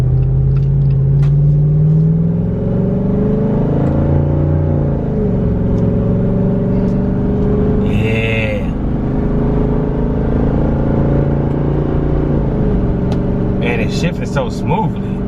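A 2021 Jeep Wrangler Rubicon with a 392 V8 HEMI engine drives along, its low rumbling engine tone rising and falling through gear changes, loud and continuous from inside the cabin.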